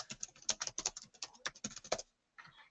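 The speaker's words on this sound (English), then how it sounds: "I'm going to type in" Someone types on a computer keyboard in quick, uneven bursts of close clicking keystrokes, pauses briefly, then resumes with a few more taps. No voices are heard.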